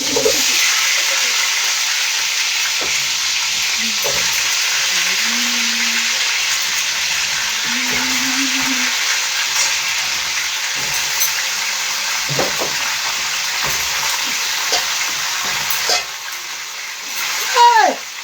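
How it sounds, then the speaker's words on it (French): Apples frying in hot oil in a pan give a steady, loud hiss and sizzle throughout. Brief voices and kitchen clatter sound over it, and a louder burst comes near the end. "je mets alors maintenant les pommes dans l'huile"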